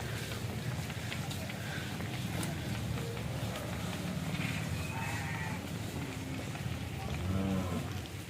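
A calf kept at a friend's house in Channapatna moos several times, drawn-out calls rising out of steady outdoor background noise, nearby and fairly clear.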